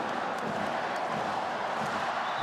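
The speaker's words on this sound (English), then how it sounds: "Now this home crowd truly have been galvanized here in the second half" Home crowd at a Georgia v Spain basketball game in a FIBA World Cup European qualifier, a steady roar of cheering filling the arena with faint thuds beneath it.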